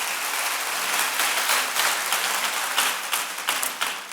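A church congregation applauds steadily, a dense wash of hand claps filling the room for the whole stretch with no voices on top.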